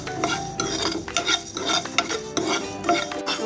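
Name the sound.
frying fenugreek, cardamom, cloves and cinnamon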